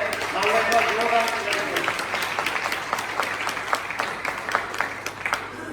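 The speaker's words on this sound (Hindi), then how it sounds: "मैं चाहूंगा एक बार जोरदार तालियां होनी चाहिए।" Applause from a crowd, steady clapping throughout with some voices mixed in, moderately loud and dense.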